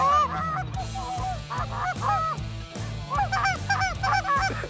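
A flock of Canada geese honks repeatedly during a snowy waterfowl hunt, loud, close and overlapping calls in quick irregular bursts, with no talking.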